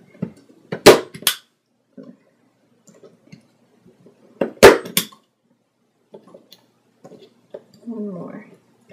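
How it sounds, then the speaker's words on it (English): A stapler snaps through the pages of an altered vintage book, giving two sharp loud clacks several seconds apart. Each clack is followed by small handling clicks and rustles in a quiet room. "Then carefully, hopefully, staple it."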